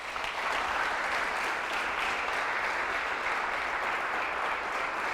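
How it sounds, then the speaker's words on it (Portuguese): An audience at a motivational talk applauds steadily for several seconds, a dense, even wash of clapping hands with no one speaking over it. "Você podia dar um aplauso a ele por isso."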